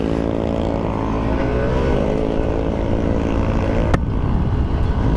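A motorcycle with its stock exhaust pipe rides along, giving a loud, steady engine drone mixed with wind rush, with one sharp click near the end.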